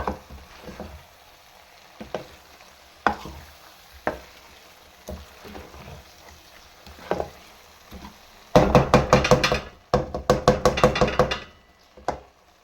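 Aloo gobi matar sabzi with whole green chillies is stirred in a frying pan, making soft sizzling between scattered spoon knocks, then a dense burst of scraping and clatter near the end.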